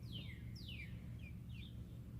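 Young free-ranging chickens, a Maran and an Isa Brown, chirp in a farmyard with four thin descending peeps spaced about half a second apart over a steady low background hum.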